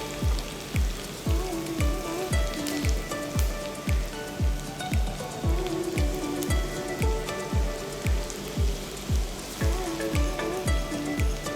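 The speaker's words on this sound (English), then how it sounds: "We'll put some onion chops. We'll let it fry for some time." Chopped onions fry in a pan for fruit pulao with a continuous crackling hiss, accompanied by a steady, regular low thumping beat that runs throughout.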